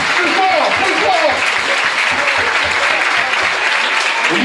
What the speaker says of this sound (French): Lilou et Thomas, un tonnerre d'applaudissements, s'il vous plaît.